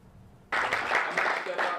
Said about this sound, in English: A round of applause for an FWC presentation on coyotes Thursday